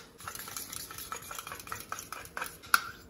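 Egg mixture for French toast with chopped onion and capsicum being beaten in a bowl, a quiet, steady run of soft whisking clicks and scrapes, close and alone without talk.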